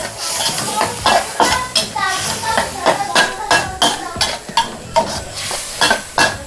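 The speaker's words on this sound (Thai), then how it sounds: "ผัดพริกกับกระเทียมให้หอมก่อนนะคะ" Chili and garlic stir-fried in a pan for a Thai pork belly dish, with rhythmic scraping strokes of the spatula over steady sizzling, close and loud, while someone talks.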